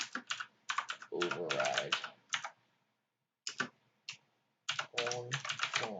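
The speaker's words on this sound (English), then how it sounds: "we're going to type in protected" Code is being typed on a computer keyboard in quick clustered bursts of close, crisp key clicks with short pauses between, while someone speaks briefly.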